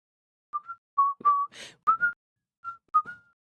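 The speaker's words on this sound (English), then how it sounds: "Trying to get it to pick up my whistling because I whistle a lot" A person whistles close into a microphone in short, clear phrases of one or two notes with brief pauses between them and a breathy puff partway through, alone in a quiet room.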